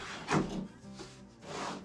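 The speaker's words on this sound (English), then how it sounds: "So we should be able to just do this and this and slide the drawer out." A wooden drawer slides out of a workbench with close, grinding wooden rubs in two or three short strokes, with no talk.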